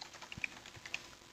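Keystrokes on a computer keyboard during a coding session, a few scattered soft clicks and taps at close range over a quiet room background.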